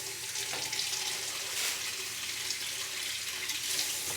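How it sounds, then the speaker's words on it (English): Water being poured into a cooking pot or pan, a soft, continuous hissy splash with faint sizzling underneath, fairly quiet and close, no talk. "And I'll add more water."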